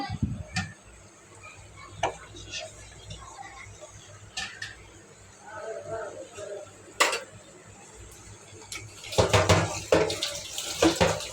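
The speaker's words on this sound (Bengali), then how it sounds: "মাখা মাখা হওয়ার জন্য ও কমই পানি দিচ্ছি তরকারিটা" Water is poured into a pot of potato curry with dried shrimp in a home kitchen. There are several short splashes, a longer pour near the end and light clinks of utensils, with a voice speaking quietly in between.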